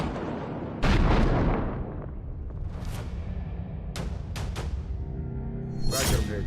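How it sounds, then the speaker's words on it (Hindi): A heavy explosion in the Caspian Sea booms loudly, followed by a rumbling aftermath and several sharper blasts or bursts, one more near the end. "कैस्पियन सागर में पहला धमाका।"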